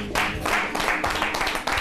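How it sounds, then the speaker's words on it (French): A studio audience at a French-language television debate show applauds, with broadband clapping in uneven bursts that rise and fall over a couple of seconds, close and fairly loud. "On va encore applaudir, s'il vous plaît, Sonia."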